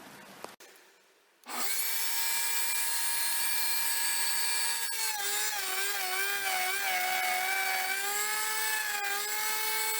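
A woodworking router spins up after a brief click and then whines steadily as its bit cuts walnut veneer on a router table, a loud, close, sustained tone that wavers slightly in pitch as the cut goes on.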